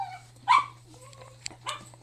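A dog barks from inside a crate, a couple of short sharp barks and yips with a whimpering tone, fairly close, over a faint steady hum.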